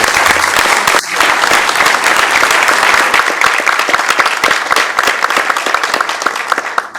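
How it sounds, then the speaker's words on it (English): A crowd at a Sacramento City Council meeting breaks into loud, sustained applause, dense clapping that holds steady for several seconds before easing off, with no speech over it. "let's give a big round of applause"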